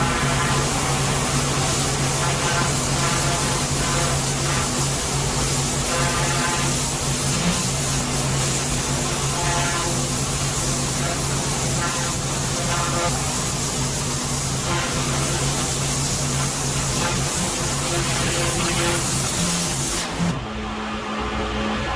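A pressure washer sprays hard at stubborn white lichen on a patio. Its jet makes a loud, continuous hiss over a steady motor drone for about twenty seconds, then cuts off abruptly near the end.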